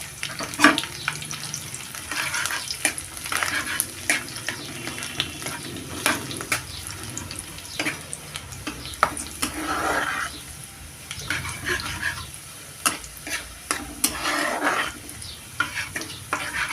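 Crushed garlic cloves and whole dried red chillies frying in oil for a tomato pickle, a constant close sizzle with repeated scrapes and knocks of a spoon stirring the pan.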